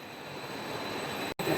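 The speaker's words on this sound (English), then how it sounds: "now you can see our feeder is rotating here" A feeder motor on a Jwell PVC foam board extrusion line runs steadily, giving a continuous broadband mechanical roar with no breaks apart from one very short dropout near the end.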